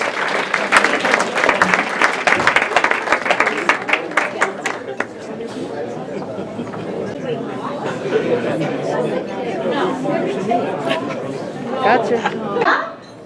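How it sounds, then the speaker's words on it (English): A dinner crowd at a golf outing banquet breaks into a round of applause, dense clapping that starts strong and gradually thins into murmuring chatter and scattered claps, with a brief final burst before fading. "Give a round of applause."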